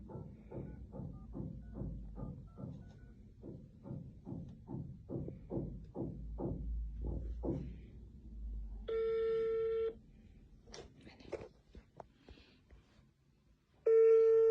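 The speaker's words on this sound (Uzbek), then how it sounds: "Yangi nomerdan telefon qilaman Abdulazizga." A rapid run of soft keypad presses dials a number, followed by a pause and then a loud, steady phone ringing tone that repeats.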